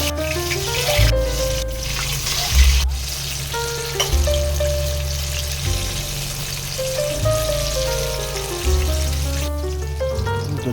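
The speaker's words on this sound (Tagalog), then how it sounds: "Pirituin muna natin guys yung talong para masarap bago natin nilagay sa ating kare-kare" Sliced eggplant frying in hot oil in a pan, cooked before being added to beef tripe kare-kare. A steady, loud sizzle runs throughout, with a few brief clatters of utensils and no speech.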